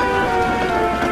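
Rain plays as a sound effect in a story about a railway engine, a dense, even hiss of drops hitting a surface, close and steady through the short stretch.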